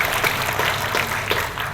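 Congregation clapping during a New Year's Day church sermon, a dense steady round of applause filling the whole moment with no voice over it.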